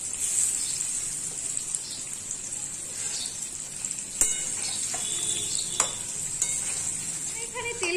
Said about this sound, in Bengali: প্রথমে আমরা আলুগুলোকে ভালো করে ভেজে নেব লাল লাল করে।